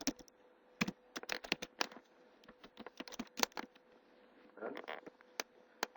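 Rapid, irregular keystrokes on a computer keyboard during an Oracle 10g installation on Red Hat Linux 5, close and crisp, with short bursts and brief pauses and a denser cluster of taps near the end.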